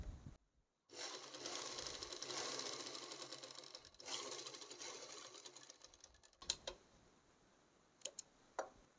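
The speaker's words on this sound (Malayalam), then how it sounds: "ഇതിലേക്കൂടി സ്റ്റിച്ച് ചെയ്ത് വന്ന് ഇവിടെ സ്റ്റോപ്പ് ആക്കാം കേട്ടോ" A household sewing machine stitches a tuck into a churidar top, a steady close whirring run of needle strokes that stops abruptly, followed by a few sharp clicks and taps.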